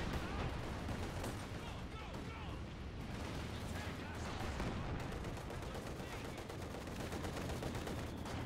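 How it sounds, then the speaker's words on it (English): Tank gunfire and battle noise in a video game: dense, continuous volleys of shots and blasts that keep up loudly throughout without a break. "I love how that tank is somehow shooting those people."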